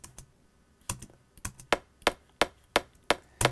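Short, sharp synthesized drum transients, about a dozen crisp clicky hits in a loose, irregular rhythm, dry and close with quick decays and near silence between them.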